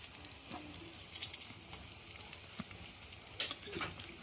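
Lentil fritters (dal bora) made with greens and masoor dal fry in hot oil, giving a steady close sizzle with a few soft scrapes and clicks as they are turned over.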